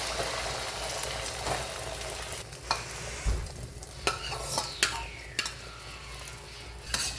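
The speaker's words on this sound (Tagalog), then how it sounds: "Lagyan na natin tong itlog." An egg dropped into hot cooking oil in a pan, crackling and sizzling steadily with a few sharper pops and spatters, close by and fairly loud, with no talking.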